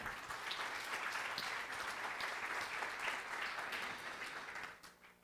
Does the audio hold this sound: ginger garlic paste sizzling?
no